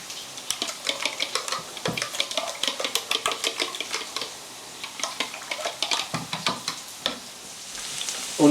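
Sliced onions and potatoes frying in a pan for a Spanish omelette, a soft sizzle beneath frequent stirring scrapes and light clinks of a utensil against the pan, close and fairly busy.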